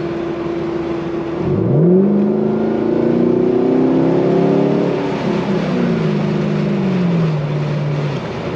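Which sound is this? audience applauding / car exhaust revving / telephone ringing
car exhaust revving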